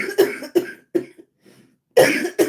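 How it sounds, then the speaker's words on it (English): Several raspy coughs from one person on a livestream, a cluster of three bursts, a short pause with faint breathing, then two more loud, close coughs. "I be trying to hold back the cough a little bit"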